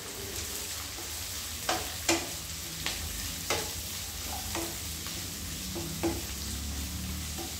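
Chopped capsicum and cabbage sizzle in a pan while being stirred for a homemade pasta dish, with a steady frying hiss broken by several sharp scrapes and clacks of the spoon.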